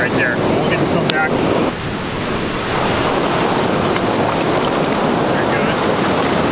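Ocean surf rolls steadily onto a California beach, a loud, continuous broadband wash with gusty wind buffeting the microphone throughout.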